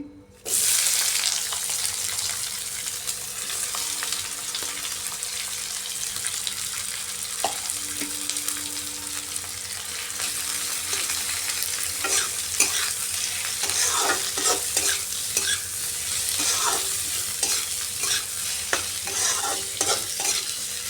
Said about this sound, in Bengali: এবার পেঁয়াজটাকেও ফ্রাই করব